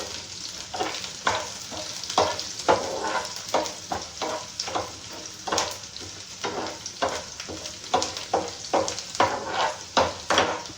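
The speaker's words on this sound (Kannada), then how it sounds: "ಶುಂಠಿ ಬೆಳ್ಳುಳ್ಳಿಯ ಹಸಿ ವಾಸನೆ ಹೋಗೋ ಹಾಗೆ ಫ್ರೈ ಮಾಡ್ಕೋಬೇಕು" Chopped ginger and garlic fry over a low flame in a pan for chana masala, a continuous close sizzle broken by rhythmic stirring scrapes and clacks with no voices.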